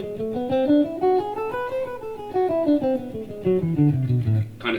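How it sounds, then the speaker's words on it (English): A melodic minor scale played as evenly spaced single pitched notes rising and then falling back down, close and clear, with a short noisy burst at the very end. "And the melodic minor scale,"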